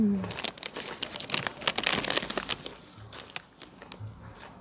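Crunchy food is chewed close to the mic, producing a dense run of crisp, crackling bites that fade toward quieter, sparser crunches.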